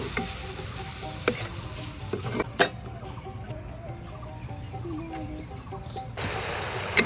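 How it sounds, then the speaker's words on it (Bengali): Spice masala paste sizzling in a pan for a prawn and pointed gourd dish, with steady frying hiss and occasional sharp scrapes of stirring, fairly close; a brief quieter stretch midway before the sizzle returns. "এই যে দেখুন মশলাটা ভালোভাবে কষিয়ে নিয়েছে"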